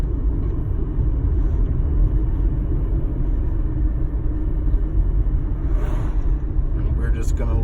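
A car engine accelerating in third gear gives a loud, low, steady rumble from inside the vehicle that holds constant throughout, with faint higher noises near the end.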